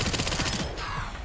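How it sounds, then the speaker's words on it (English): Rapid gunfire in the Resident Evil Requiem video game, a dense burst of repeated shots packed close together, loud and near, with no talking over it. "We are going to aim, and I am almost sure I missed nearly every shot here."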